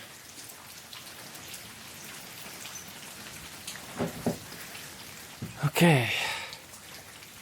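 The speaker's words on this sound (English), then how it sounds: "It's raining already, so I'm gonna have to put on the poncho" Steady rain patters through Nuuksio forest in Finland on a hiking trail, a soft even hiss of drops throughout, with a few brief rustles and short spoken words near the end.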